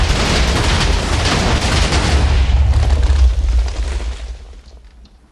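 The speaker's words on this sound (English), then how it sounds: "And boom goes the dynamite!" A dynamite blast in a video game roars as one loud, sustained, rumbling explosion that fills the first few seconds, then dies away into a fading tail.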